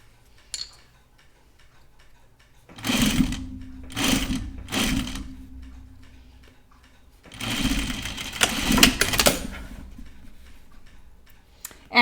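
Sewing machine finishing the edge of a small zip pouch in short bursts. Three quick runs are followed by a longer steady stitch, close and clear over a quiet room.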